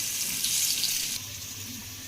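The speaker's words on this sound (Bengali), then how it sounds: "তো তাই নুন হলুদ দিয়ে লাল লাল করে ভেজে নিচ্ছি।" Potatoes fry with salt and turmeric in hot oil, a steady close sizzle that drops slightly in level partway through, with no talking.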